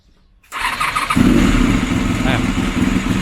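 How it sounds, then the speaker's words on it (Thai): Honda VFR400 (NC30) motorcycle engine starting: a brief starter whir, then the engine catches and settles into a loud, steady, close idle rumble. "อ่ะต่อไปผมจะสตาร์ทเลย แต่ NC ผมเนี่ยอาจจะต้องเบิ้ลนิดนึง"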